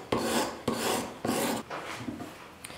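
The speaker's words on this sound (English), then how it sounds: "We're just gonna go the whole length of the knife until we get the same profile across the whole blade." A kitchen knife is drawn along a whetstone across the full length of the blade, giving close, loud rasping strokes in a steady rhythm of about two per second, with no voices.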